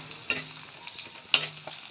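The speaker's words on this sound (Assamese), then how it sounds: "আমি তেল গৰম হৈছোঁ, তেনেকুৱাকৈ জলকীয়া আৰু তেজ দি লৈছোঁ। সেইখিনি অকণমান ভাজি ল'ম।" Capsicum and green chili frying in hot oil during home cooking for guests: a low, faint sizzle broken by two sharp stirring scrapes about a second apart.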